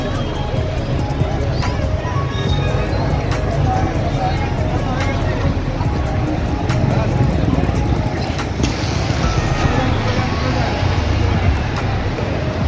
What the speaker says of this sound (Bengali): এই হচ্ছে কলকাতা স্টেশনের এন্ট্রি।